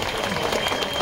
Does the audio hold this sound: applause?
yes